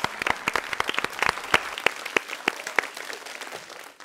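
An audience at a school quiz final applauds a correct answer, with scattered clapping that starts dense and thins to a few separate claps as it fades.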